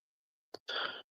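A single short sneeze, a quick sharp intake followed by a brief breathy burst, close and fairly quiet against silence.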